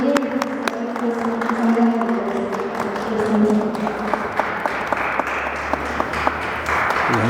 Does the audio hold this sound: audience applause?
yes